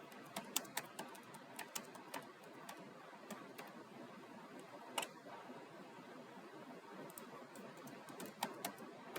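A search is typed on a computer keyboard as a scattered series of soft, uneven key clicks over a steady background hiss, quiet and close, with no talking.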